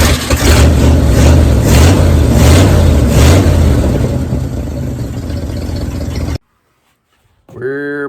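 A 1971 Ford wrecker truck's engine cranks and revs loudly in an outdoor junkyard, a rough rumbling roar that fades somewhat before cutting off abruptly, followed by a brief voice.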